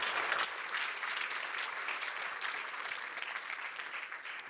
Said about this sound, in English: Another round of applause for Albert, please